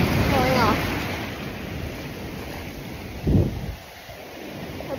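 Ocean waves break and wash along a beach after a long run, a steady roaring surf with one louder crash near the middle; a voice is briefly heard early on.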